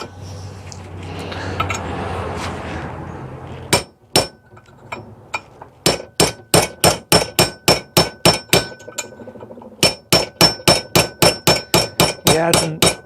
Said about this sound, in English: tap it with a hammer right along that line, and we're going to shear that aluminum